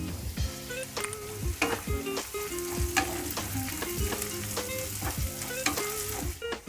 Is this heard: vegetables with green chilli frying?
yes